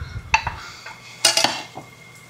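Stone mortar and pestle (ulekan) grinding boiled, softened ingredients in a home kitchen, a few sharp knocks and scraping strokes in short bursts, close and moderately loud with no talking.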